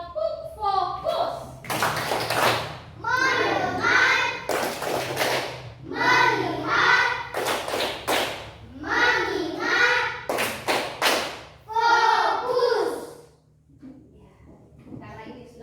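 A class of children doing the rhythmic 'tepuk fokus' focus clap, loud bursts of clapping in a set pattern alternating with the children chanting in unison, in a religious studies lesson.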